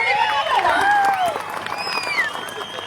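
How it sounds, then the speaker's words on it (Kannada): A crowd at a gathering at Mugulu Nagavi Math in Chittapur, Kalaburagi, applauds steadily for about three seconds, with voices and whistle-like tones rising over the dense clapping. "ಚಪ್ಪಾಳೆ"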